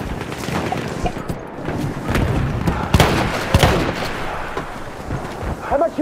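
Battlefield 1 combat in the Argonne Forest, with grenade blasts and heavy gunfire booming through a dense, continuous battle din, sharp thumps standing out near three and three and a half seconds, faint voices mixed in.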